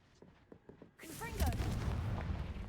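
A Bombarda explosion spell in the video game Hogwarts Legacy bursts suddenly after a quiet moment, a loud booming blast that rolls into a sustained rumbling roar with crackling debris.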